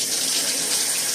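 Shower water runs in a steady, close, hissing spray, a continuous rushing wash with no voices.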